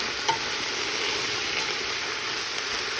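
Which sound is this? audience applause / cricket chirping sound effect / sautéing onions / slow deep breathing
sautéing onions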